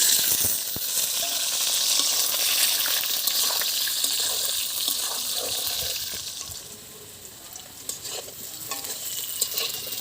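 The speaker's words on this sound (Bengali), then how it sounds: "আলুগুলো ভেজে নেব।" Potatoes fry in oil in a wok, giving a loud, continuous sizzle with stirring scrapes over about ten seconds and no talking.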